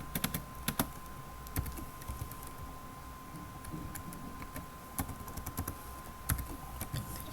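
Code being typed on a computer keyboard during a class 11 programming practical: scattered bursts of light, quick key clicks, close and fairly quiet, with pauses between them against a faint steady hum.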